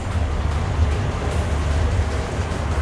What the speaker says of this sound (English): He's hoovering the floor because he just finished laying my sister's flooring.